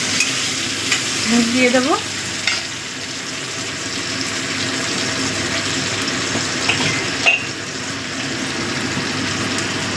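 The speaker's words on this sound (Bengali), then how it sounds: "এই তেলের মধ্যে দিয়ে দিচ্ছি টমেটো কুচি।" Chopped tomatoes fry in hot oil for eggplant bharta, giving a steady close sizzle throughout with a few scraping stirs, while a voice speaks briefly over the cooking.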